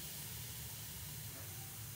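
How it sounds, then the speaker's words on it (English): Steady, close hissing sizzle of steam pressed into damp fabric, continuous and fairly quiet. "You can hear that nice sizzle."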